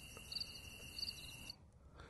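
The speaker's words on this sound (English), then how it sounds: "So if I want crickets in the background" Crickets chirp in quick, high pulsing trills, fairly quiet, then the chirping cuts off abruptly partway through, leaving near silence.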